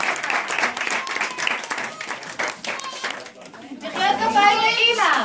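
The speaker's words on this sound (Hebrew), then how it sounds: "בואו ניתן מחיאות כפיים" Audience applause for performers of a children's play, a dense wash of clapping with children's voices and chatter mixed in, swelling louder toward the end.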